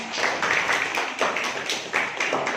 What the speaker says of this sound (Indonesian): Kita berikan tepuk tangan teman-teman.